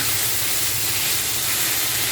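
Boiled spaghetti noodles fry in oil in a pan, giving a steady, close, loud sizzling hiss with no break.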